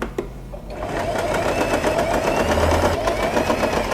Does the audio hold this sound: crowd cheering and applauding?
no